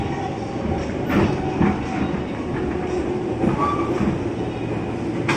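A KRL Commuter Line train rumbles steadily along the rails near midnight in Jakarta, wheels clacking in an irregular rhythm with a loud, close, continuous roar.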